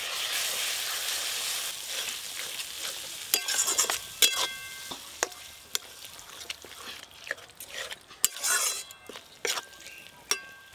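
Spice paste of ground spinach, coriander leaves and green chilli stir-fried in a pan, with a steady sizzling hiss and scraping spatula strokes, plus sharp metallic clinks of the utensil against the pan.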